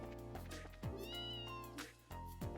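Cat meows in The Legend of Heroes: Trails in the Sky SC video game, several distinct meows over steady background game music.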